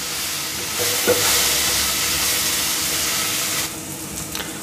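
Fish kuzhambu curry is stirred in a pan, a steady close hiss and sizzle with soft scraping and a few clinks, alone with no talk.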